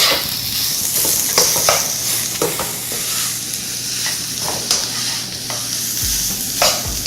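Combination fried rice with green onion stir-fries in a hot pan, a loud continuous sizzle with quick scraping and tapping of the spatula, no speech.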